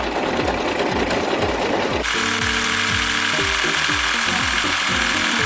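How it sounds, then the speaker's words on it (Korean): A home sewing machine stitches a triple stretch straight stitch, its needle thumping in a fast, regular rhythm with a motor whir, close and loud, shifting to a busier, tonal clatter partway through. "삼중겹 뻗침 재봉 한번 해볼게요."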